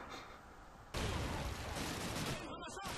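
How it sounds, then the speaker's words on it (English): A British machine gun in Call of Duty 2 fires in a sustained rattling burst that starts abruptly and stays loud before tapering, set against a noisy wartime battlefield backdrop. "this British machine gun, which, like, the only accurate shot is the first one. After that, it's like, wide range of possible firing."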